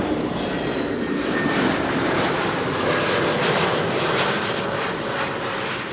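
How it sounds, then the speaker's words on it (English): A Transavia Airbus A321neo arriving at Amsterdam Schiphol makes a broad, steady roar of engine noise, moderately loud and continuous throughout with no voices. "Transavia flight 6116 arriving from Malaga, A321neo"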